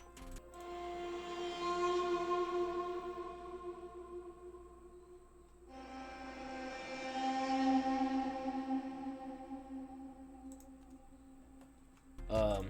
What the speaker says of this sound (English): preset from Omnisphere. I think it's like a violin type thing.